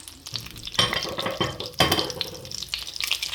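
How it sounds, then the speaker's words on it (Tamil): Fennel seeds sizzle and crackle in hot coconut oil in a pan, a steady close frying hiss with sharper spurts as the seeds hit the oil and are stirred. "எண்ணெய் சூடாகிட்டு கொஞ்சமாக பெருஞ்சீரம் போடுறேன்"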